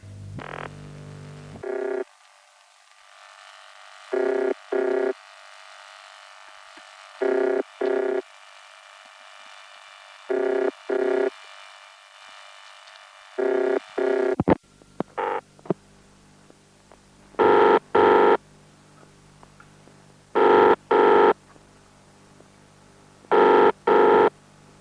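A 1971 British telephone exchange tone from a UAX7 machine, with short paired buzzing bursts repeating at a steady cadence against a faint hiss, then becoming noisier and denser toward the end.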